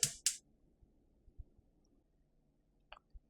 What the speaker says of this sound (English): Now I'm going to turn on the stove.